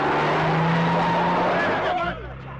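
A car pulls away with a loud, steady engine roar close by that swells and then drops off sharply as it leaves, while people talk over it.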